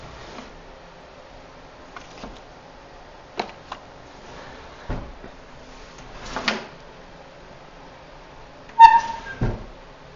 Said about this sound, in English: It's got to be in one of these drawers.